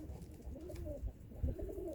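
White pigeons at a bird market give soft, low cooing calls in a few short bursts, close by and fairly quiet against a light background bustle, with no speech.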